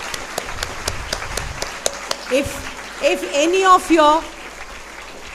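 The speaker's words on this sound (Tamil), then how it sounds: "அவங்களுக்காக ஒரு தடவை கைத்தட்டு." Schoolchildren at a public school event clap for soldiers. Light, evenly spaced claps come first, then voices rise and overlap as the clapping fades.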